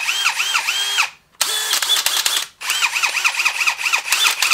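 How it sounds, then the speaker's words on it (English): A DeWalt DCD996 brushless hammer drill runs in loud bursts, its high whine pulsing rapidly, cutting out briefly twice before spinning up again close to the mic. "So the model number for the DeWalt hammer drill is DCD996."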